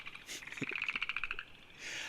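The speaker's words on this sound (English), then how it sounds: "I hope you all can hear me over these loud frogs." Loud frogs croak close by in a rapid pulsed trill that rises and fades, with no one talking.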